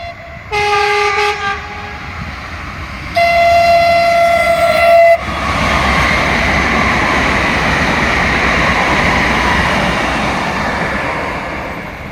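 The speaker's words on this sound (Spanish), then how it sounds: "volví a Follos, al paso a nivel donde grabé esa épica pitada" A Metrovalencia train sounds its horn at a level crossing with two loud, sustained blasts, and then the rushing clatter of the passing train rolls on and slowly eases off.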